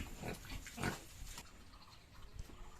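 A pig on a farm being weighed gives several grunts and oinks, quiet and fairly close, with no talking.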